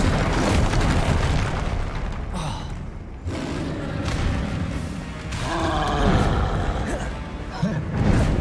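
An Incendio fire spell is cast in Hogwarts Legacy, with heavy roaring bursts and booming whooshes of flame layered among other spell blasts, loud and close, while a voice shouts spell names over the effects.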